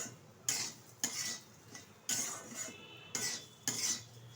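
A spoon scrapes and stirs semolina mohanbhog in a pan in about six firm, evenly spaced strokes, each a gritty swish, with no voices.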